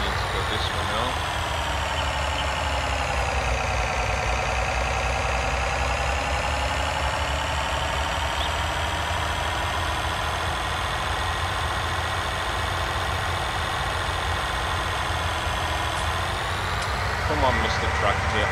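A tractor engine idles steadily in Farming Simulator 19, a continuous mid-pitched drone with harmonic whine that holds level for the whole stretch, with a small shift near the end.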